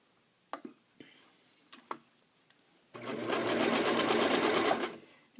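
A sewing machine stitching wool fabric cut from a sweater to make longies. A few sharp clicks come first, then the machine runs steadily and loudly for about two seconds before stopping.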